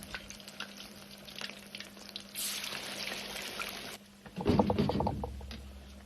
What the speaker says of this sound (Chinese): 炸至表面稍微发硬定型后，先捞出来，再用同样的方法把剩下的 慢慢放入锅中。